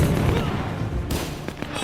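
Grenade blasts and gunfire from a Men of War 2 battle: a heavy boom opens, followed by a sharp crack about midway and scattered smaller bangs, loud and close with no voices.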